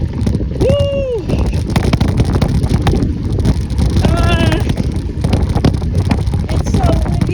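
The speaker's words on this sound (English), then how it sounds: "It's so windy for you guys." Strong wind buffets the microphone in loud, continuous bursts while riding a BMX bike on a dirt bike track, with brief whoops and voices cutting through the roar.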